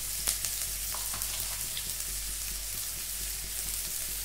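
Chopped onion frying with a pinch of salt in a pan, giving a steady, moderately close sizzle and hiss with a few faint crackles throughout and no voices.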